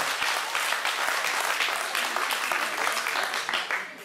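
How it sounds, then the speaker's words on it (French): An audience at an agricultural fair claps steadily, a dense wash of applause that holds for several seconds before beginning to fade. "je pense qu'on peut les applaudir aussi"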